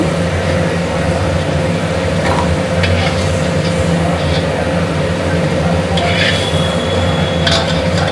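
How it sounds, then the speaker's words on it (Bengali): Potatoes frying hard in hot oil in a home kitchen, a loud continuous sizzle with occasional stirring scrapes and a low steady hum beneath. "আলুগুলো ভালো ভাজা হয়ে গেছে, পুরো লাল লাল করে ভেজে নিয়েছি"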